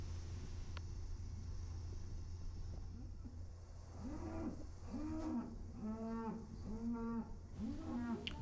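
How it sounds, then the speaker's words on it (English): Several low cow moos follow one another at a distance, over a steady mechanical hum. "that mooing you're hearing is not from this cow"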